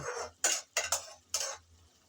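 A spoon scrapes and stirs dried shrimp curry (chingri shutki bhuna) in a pan after the lid comes off, making three or four quick, close metallic scraping strokes in a brief rhythmic burst.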